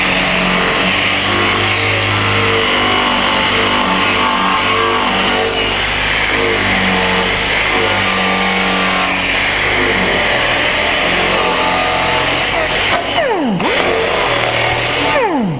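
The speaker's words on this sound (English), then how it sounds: "I'll show you again how to do the edges when you get to an edge to buff or to grind off of the edge." An angle grinder grinding the edge of thin sheet metal for body work, a loud, sustained harsh whine that wavers in pitch as the disc bites the edge and then spins down briefly near the end.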